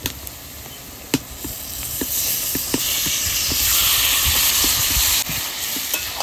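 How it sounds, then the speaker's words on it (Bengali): Pieces of goat mutton go into a hot pan of fried onion and spices, producing a loud, continuous hissing sizzle with occasional clanks and scrapes of stirring close by. "মাংসটা দিয়ে দেবো"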